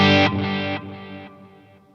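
Electric guitar chord run through an HX Effects unit with reverb and delay placed ahead of a fuzz pedal, struck loudly then decaying in stepped repeats, the echoes fading over about two seconds with no talk.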